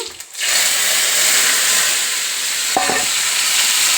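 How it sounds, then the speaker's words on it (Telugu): Onion, coconut pieces, mustard seeds and cumin seeds fry in a pan for paneer curry, a loud steady close sizzle that starts after a brief clatter, with a soft stir or tap near the end. "ఇదిగో ఉల్లి ఉల్లిపాయ కొబ్బరి ముక్క ఆవాలు వేసుకున్నానండి జీలకర్ర కూడా వేసుకున్నాను"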